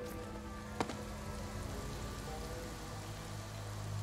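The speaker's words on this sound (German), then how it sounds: "Jetzt regnet's" Steady, even rain hiss in the video game Ghostwire: Tokyo throughout, with a single sharp click early on and a low droning tone underneath.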